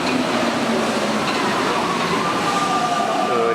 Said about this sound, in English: these trains are very quiet and comfortable because they run on rubber tires